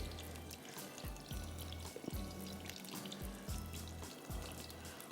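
Water poured into a pot of cooking mutton curry, a quiet splashing and trickling stream with a few gurgling bursts, close and soft, with no talk over it.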